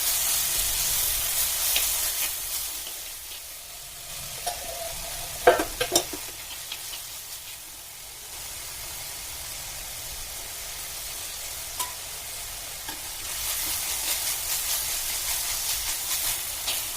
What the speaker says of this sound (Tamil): நீங்கள் தேங்காவை நெய்யில் லைட்டாக வதக்கிட்டு வெல்லம் காய்ச்சலை வடிகட்டி சேர்த்துக்கோங்க